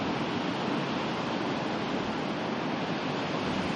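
Surf breaking on Rodiles beach in Asturias, a steady broadband roar of waves with wind, continuous and fairly loud throughout, no voices.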